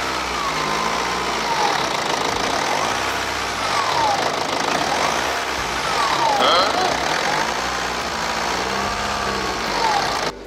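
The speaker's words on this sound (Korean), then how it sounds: "윙! 윙! 하면서 액셀을 밟으면 엔진 소리가 커지는데" A BMW F10 525d diesel with a turbo fault runs near the microphone. The engine drones steadily through repeated throttle blips, with faint whistling sweeps rising and falling over the rumble.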